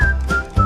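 Whistling from the Snow White (2025) film: a short, loud, clear melodic whistle, a few sustained tones stepping between pitches over a steady low musical backing, with no talk.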